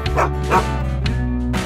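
A cartoon dog gives a few close, loud barks and yips in quick succession, with a whimpering tone at the end, alone without any talk.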